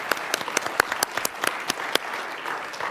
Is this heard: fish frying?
no